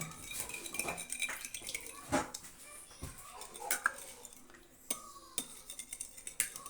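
Eggs and milk being mixed in a bowl for a tuna cake batter, with irregular clinks and scrapes of a utensil against the dish, close and fairly quiet, with faint voices in the background.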